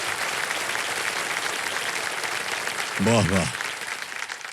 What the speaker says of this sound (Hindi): देखा आपने कितनी ताली बज रही है आपके लिए?